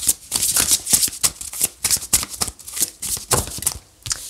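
Tarot cards are shuffled and handled close up: a rapid run of crisp riffling flutters and slaps, steady and busy throughout with brief gaps between bursts.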